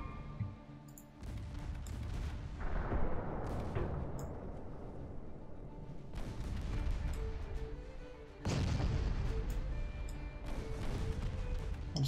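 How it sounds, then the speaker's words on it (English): A warship fires a torpedo in the naval battle game Ultimate Admiral Dreadnoughts, heard as low, muffled booms: one rumbling blast early on and a second sharp thump later over a constant, quiet battle rumble. "We fired a torpedo."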